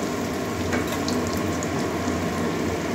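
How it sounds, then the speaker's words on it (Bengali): Egg and carrot curry being lightly fried in a pan, a continuous soft crackling sizzle with faint scraping, steady and close. "হালকা করে একটু ভেজে নিচ্ছি।"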